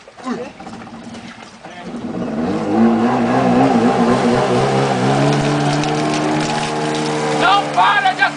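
A jet ski engine revving and accelerating on water, a steady rising drone held for several seconds with shouting and voices over it near the end.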